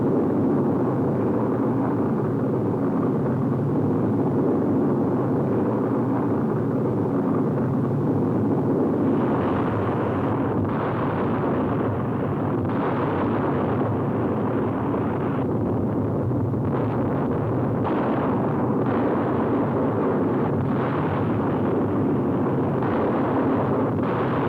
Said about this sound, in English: Remarkable pictures of the RAF bombing the Nazis in broad daylight.